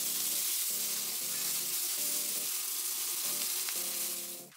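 Onions frying in oil and butter in a pan fill the air with a steady, loud sizzle and crackle, while a low rhythmic hum pulses underneath. No one speaks.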